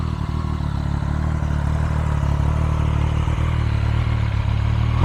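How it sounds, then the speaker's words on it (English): A 2022 Triumph Street Triple R three-cylinder engine drones at close range through its exhaust, a continuous low rumble with a faint whir on top, holding an even pitch. "you could hear that glorious exhaust, that iconic 3-cylinder sound"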